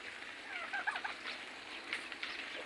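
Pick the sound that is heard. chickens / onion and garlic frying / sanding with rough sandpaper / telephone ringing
chickens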